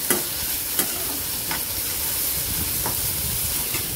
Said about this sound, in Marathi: आता कांदा भाजून घेऊयात